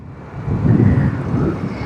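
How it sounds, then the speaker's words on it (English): Steady low roar of wind buffeting a microphone through an open motorcycle helmet visor while riding, swelling slightly midway, with a faint engine hum underneath and no voices. "when I open my helmet glass, it's like so much wind"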